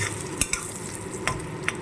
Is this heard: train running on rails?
no